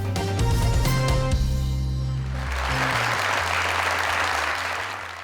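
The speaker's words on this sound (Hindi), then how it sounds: "हमारी आज की विनर के लिए बहुत सारी तालियां" Studio audience applauding the show's winner, a sustained burst of loud clapping that swells and holds steady over fading music.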